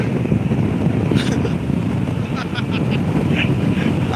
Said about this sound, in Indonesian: sampai mulut saya sampai terbawa angin ini. Kencang sekali ini. Kencang sekali anginnya ini.